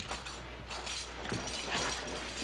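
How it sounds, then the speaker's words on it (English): A key turns in a door lock in an old Western setting, giving a steady run of close mechanical ratcheting and clicking that lasts about two and a half seconds with no voices. "Fitch, get the key and open the door."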